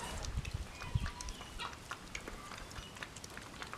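Soft clucking of chickens nearby in a cow barn, a few low bursts over quiet background.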